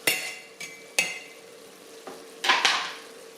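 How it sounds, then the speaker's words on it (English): Minced garlic goes into a pot of chili and gets stirred, giving a few sharp spoon knocks against the pot and soft scraping and sizzling between them, close by with no talking. "a good tablespoon of garlic. Minced up. Going in the pot."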